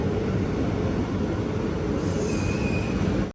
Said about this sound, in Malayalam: ട്രെയിൻ ഇപ്പം മാരാരിക്കുളം റെയിൽവേ സ്റ്റേഷനിൽ നിർത്തിയിരിക്കുകയാണ്